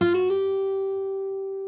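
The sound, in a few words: fingerstyle guitar hammer-ons, Animal Crossing New Horizons theme, sped up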